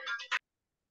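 A phone rings in a short, loud burst of about 0.4 seconds, a bright electronic trill with a sharper final pulse, then cuts to silence.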